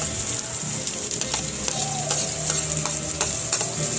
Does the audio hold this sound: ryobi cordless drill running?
no